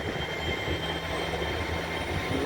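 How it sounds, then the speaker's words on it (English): A Great Western Railway Class 802 train pulls away from a platform at Taunton with a steady rumble and faint wheel squeal, heard alone at moderate distance. "Now leaving on platform 5 is the Royal Duchy, the slightly delayed 1542 Great Western Railway service"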